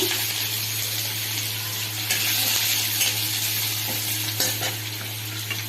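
Garlic and five-spice seeds (panch phoron) sizzle and crackle steadily in hot oil in a home kitchen, close and continuous with occasional stirring, with no talking.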